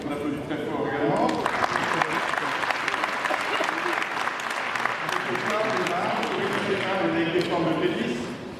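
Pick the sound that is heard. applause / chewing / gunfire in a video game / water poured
applause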